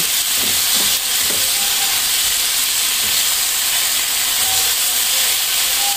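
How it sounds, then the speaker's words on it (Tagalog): Steady, close sizzling hiss of papaya and moringa leaves frying in a pan for a gatang dish, dense and continuous throughout, with a few faint clicks and stirring bumps near the start. "Iprito natin ng saglit."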